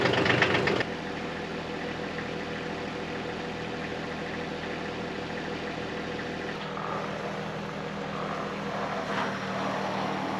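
A tractor engine runs at a steady idle, a continuous low rumble with a dense harmonic drone, starting with a brief louder burst and then holding an even level throughout.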